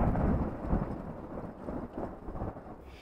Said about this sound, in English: gray clouds can roll in, bringing rain and thunderstorms.